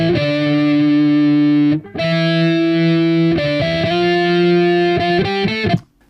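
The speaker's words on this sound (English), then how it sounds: "It's also adding some distortion of its own set by the drive knob here." Overdriven electric guitar lead through an effects chain with the drive knob adding distortion, loud sustained notes ringing out in a few held phrases before cutting off.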